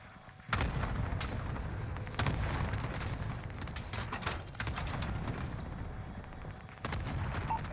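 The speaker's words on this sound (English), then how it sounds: "Cluster strike is active." A cluster airstrike in Call of Duty Warzone hits as a series of sharp explosive bangs and booms at irregular intervals over a constant rumbling combat background, loud and close.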